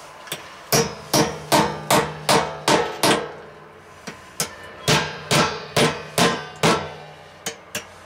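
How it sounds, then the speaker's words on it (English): A hammer taps truss head screws into a teardrop trailer fender mounting, a steady run of sharp, close metallic strikes in two bursts with a short pause between, no talk. "so we just want to tap these into place"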